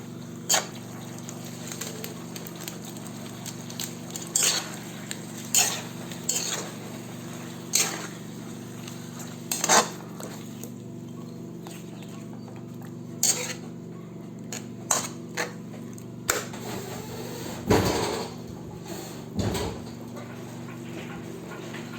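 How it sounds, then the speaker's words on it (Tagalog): Fried pork chops stirred in a pan, with a utensil scraping and clinking against the metal in irregular taps and scrapes over a low steady hum, several sharper knocks near the end. "Ilagay na natin ang prinito natin kanina na pork chop. Haluin lang natin."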